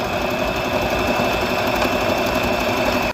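A sewing machine runs steadily and loudly for about three seconds, its motor whirring in a rapid continuous stitching rhythm before stopping abruptly.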